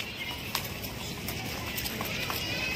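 A four-year-old Marwari horse walks on hard ground at a horse market in Hyderabad, its hooves clip-clopping in a steady, moderately near rhythm under a constant background hum and faint outdoor noise.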